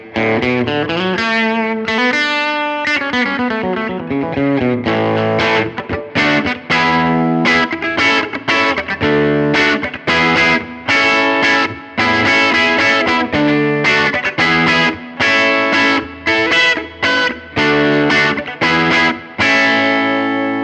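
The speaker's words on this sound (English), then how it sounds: "The bridge pickup sounds like this," Telecaster bridge pickup played through a Line 6 POD GO preset: a bright, twangy electric guitar with effects, a continuous run of picked notes and chords, loud and close, with no talking.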